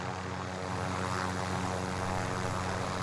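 Aircraft engine drone passing overhead in a first-person shooter video game, a steady loud propeller-like hum with strong low tones holding constant for about three seconds, no talk.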